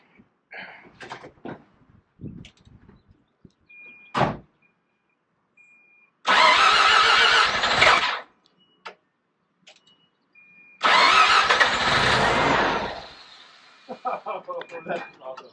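A Mazda RX-7 Turbo II rotary engine cranks over in two loud, sustained bursts of roughly two seconds each. Short gaps separate them, and quieter clicks and brief talk come before and after.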